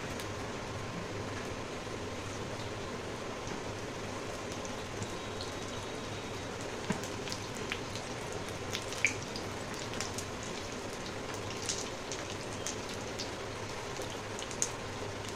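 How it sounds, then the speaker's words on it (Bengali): Gima greens fritters (bora) sizzle steadily in hot oil in a pan over a low gas flame, a dense continuous crackle with occasional sharper pops. "গ্যাসটা কম করে আর এটা ভাজলে বড়াটার ভেতর অবধি ভালো করে ভাজাটা হয়ে যাবে"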